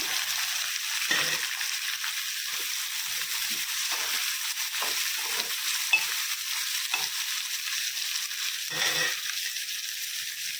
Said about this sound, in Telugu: ఒక 2 మినిట్స్ ఇలా ఉల్లిపాయ నూనెలో వేగనిద్దామండి